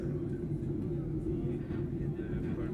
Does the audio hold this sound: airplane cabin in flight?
yes